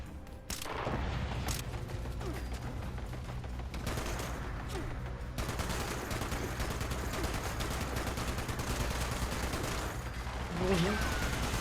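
Gunfire in the video game Fallout 76 during an assault on the Enclave: bursts of rapid automatic fire and scattered shots rattle continuously over a low rumble, fairly loud and sustained.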